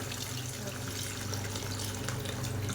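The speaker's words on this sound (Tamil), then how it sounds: "புளி ஊற்றுறோங்க" Tamarind water pours steadily into a sardine fish curry, a continuous close liquid splash and trickle at moderate level, with no speech.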